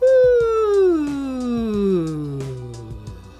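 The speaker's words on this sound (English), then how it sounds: "start at the very top of your range and slowly slide down to the bottom of your range" A single sung voice glides smoothly downward from the top of its range to the bottom in a vocal cool-down exercise, steady and moderately loud, with no words.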